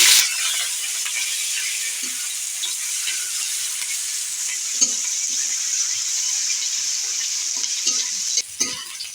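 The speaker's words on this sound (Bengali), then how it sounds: "আমি এখানে পেঁয়াজগুলো ঢেলে দিই" Onions frying in hot oil with cinnamon and cloves, a loud continuous hiss and sizzle close by, with occasional soft stirring scrapes, no talk.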